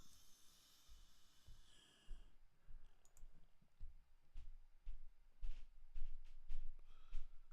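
Mouse clicks from placing buy bid orders while trading shares, several sharp separate clicks in a loose irregular series, close and fairly quiet over a hushed room background with no talk.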